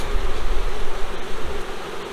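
Honey bees swarm around a freshly split hive, a steady loud droning buzz close by with no talking.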